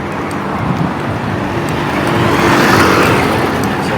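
Road traffic with many vehicles passing: a continuous loud roar of cars and motors close by, swelling slightly as vehicles go past, with no talk.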